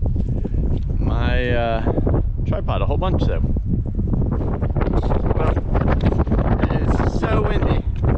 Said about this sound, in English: It's so windy, it's probably gonna knock over